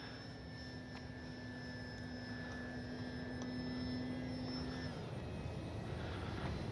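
Dynam Beaver V2 radio-controlled model airplane in flight with flaps up, a thin steady electric motor whine at a distance that drops off partway through, leaving faint outdoor background.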